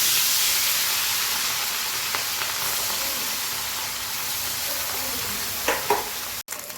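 Small mourola fish fry in hot oil in a pan, making a loud, continuous sizzle close by with a few light clinks and knocks toward the end.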